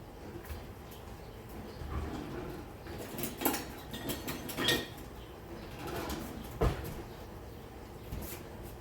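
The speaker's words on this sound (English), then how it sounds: "I don't know where my rubber spatula is. I believe it's over there in that drawer." Someone rummages through a kitchen drawer for a rubber spatula: faint scattered clinks and knocks of utensils, with a few sharper clatters over a quiet room.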